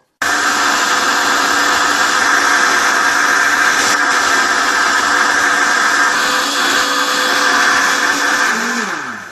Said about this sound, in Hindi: इसमें से आधा लीटर क्रीम जो है वो मैं ब्लेंडर में डाल लूँगा